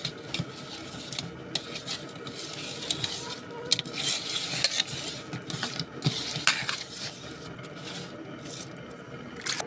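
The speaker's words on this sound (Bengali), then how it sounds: "সুন্দর করে ইলিশ মাছটা মাখায় নেব।" Hands work pieces of hilsa fish in turmeric powder, producing close, irregular squishing and stirring noises with soft scrapes and occasional sharper clicks.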